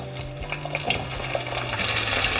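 Red and green bell peppers sizzle in a pan, a steady hiss of frying with light scraping and stirring clatter close by, growing slightly louder toward the end.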